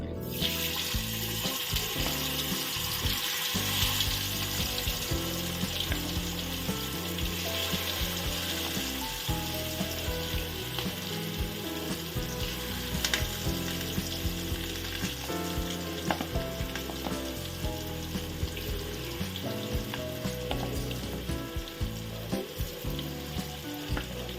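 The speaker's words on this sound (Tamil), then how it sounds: "எண்ணெய் அடுப்பில் வச்சுருக்கேன் இதில் நமக்கு சிக்கனை போட்டு" Steady, dense sizzling and crackling of chicken frying in hot oil, continuous and close throughout, with occasional clinks of stirring.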